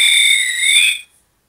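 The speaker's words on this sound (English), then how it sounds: "We've got a whistle." A toy noisemaker gives a shrill electronic whistle tone that holds steady for about a second, then cuts off into silence.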